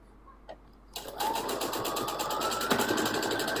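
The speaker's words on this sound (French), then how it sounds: "Donc on coud bien jusqu'au bout avec un point d'arrêt au départ et un point d'arrêt à la fin." Home sewing machine running steadily along a seam of a pompom-trimmed scarf, starting after a faint click and holding a continuous close, buzzing whir for the rest of the stretch.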